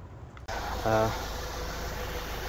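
A Volkswagen CC with a 2.0 TSI engine idles steadily after a purge valve replacement, a smooth continuous hum starting abruptly, with a brief tonal whine near the start.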